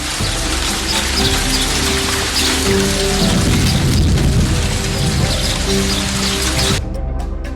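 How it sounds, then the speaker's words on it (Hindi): Heavy rain pours down on surfaces in a steady, loud hiss while deep thunder booms and rolls underneath, the downpour cutting off abruptly at the end. "तभी बारिश शुरू हो जाती है"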